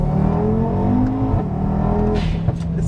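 Audi RS3 hybrid turbo engine accelerating hard, a loud, steady close-up rising drone with strong harmonics that drops briefly as gears shift before climbing again, no talking over it.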